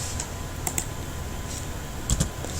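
Keys tapped on a computer keyboard while coding a Django e-commerce app, a few sparse, close clicks over a quiet room hum.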